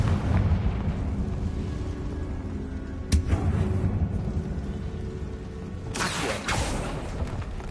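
A Confringo fire spell blasts in the Hogwarts Legacy video game, with sharp explosive bursts at intervals over a rumbling game backdrop, the loudest crack and roaring blast coming near the end.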